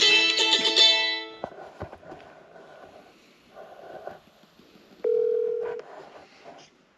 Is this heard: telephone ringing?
yes